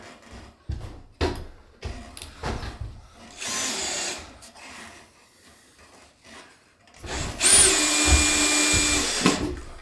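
A power drill drives fixings for a joist hanger during a floor joist repair, whirring in several short bursts separated by pauses, then running in a longer, louder burst near the end.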